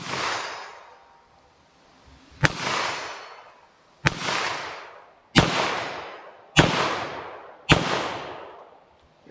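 A handgun fires .22 WMR rounds in single and double action, giving six sharp outdoor shots spaced one to two seconds apart, each followed by a long rolling echo.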